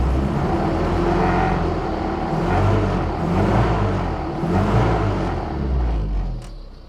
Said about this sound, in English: But if I rev it a little bit